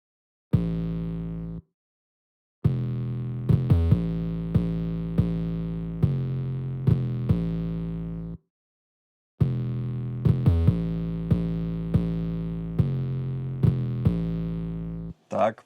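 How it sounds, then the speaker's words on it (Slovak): Distorted 808 bass notes from a trap track, a deep gritty sub-heavy tone played in a repeating pattern of sustained hits with brief gaps and a few quick stuttering rolls, loud and alone. "Som tam vlastne hodil na tú 808 ďalej v tracku efekt Distort"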